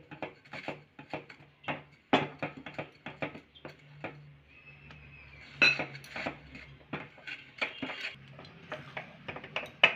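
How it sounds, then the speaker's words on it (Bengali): Rice flour being stirred into jaggery syrup in a pot off the heat, heard as close, irregular scraping, knocking and clinking of a utensil against the pot with pauses between strokes. "এবার আমি চালের গুঁড়ো দেবো একটু একটু করে এভাবে মিশিয়ে নেব"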